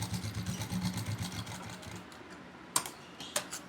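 Sewing machine running a straight stitch on a semi-Patiala salwar, a fast rattling needle chatter for about two seconds, then stopping, followed by a couple of sharp clicks from the machine, close and fairly quiet.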